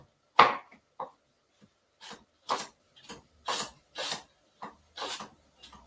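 A knife slices raw fennel thinly on a board, giving about eight crisp, evenly spaced chops that cut through with a brushing rasp, close and clear with no talk.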